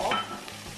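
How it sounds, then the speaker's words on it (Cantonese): Chicken drumettes sizzle in a pan with lemon over lowered heat, a steady close frying hiss with a brief louder burst at the start and no talk. "咁煎到兩邊都金黃咧，就落埋檸檬，轉小火"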